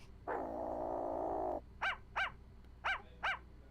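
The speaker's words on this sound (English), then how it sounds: "A doggy came out of the bag." A dog in the Phoenix Wright: Ace Attorney video game lets out a long growl followed by four sharp, evenly spaced barks, clear and close with no talking.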